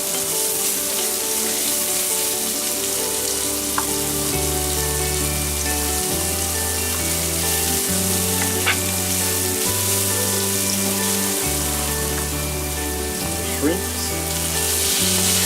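Onion sizzles steadily in a hot pan for fried rice, a dense, even frying hiss with a continuous crackle, a low hum underneath and a few faint clinks, close and fairly loud.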